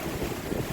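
Hurricane Idalia's wind gusts buffet the microphone in a brief, loud, rough roar beside a parked RV trailer, no voices present.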